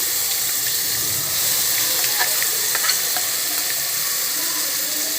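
Raw tamarind chutney frying in a pan gives a steady, close sizzle with a broad hiss, broken by light stirring scrapes and soft pops. There is no talking.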